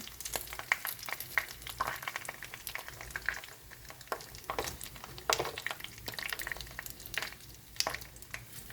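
Steady crackling and sizzling of pollock skin deep-frying in leftover hot oil, with sharp pops and spatters throughout, close by and fairly loud.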